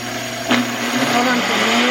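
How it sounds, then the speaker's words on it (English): A high-speed blender grinds sugar into powdered sugar with a steady, loud motor whine that shifts pitch slightly as it works, with a brief knock near the start. "we're just gonna put this in a high-speed blender and see what happens"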